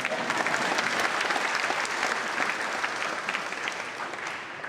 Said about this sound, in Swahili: Kwani mnagoja kunipigia makofi za gani?